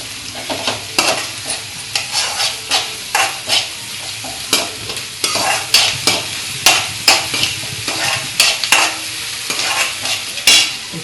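Ingredients are stirred and roasted in a pan for Maharashtrian pitla. A spoon scrapes the pan in loud, close strokes at an uneven rhythm over a faint sizzle, with no voices.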